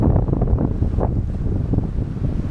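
Wind buffets the microphone steadily aboard a sailboat moving between islands, a loud continuous rush with water sounds beneath it and no voices.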